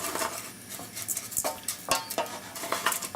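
Rice stirred and toasted in a pan for risotto alla Milanese: a spoon repeatedly scrapes and clinks against the pan over a faint sizzle, with irregular close knocks and no talking.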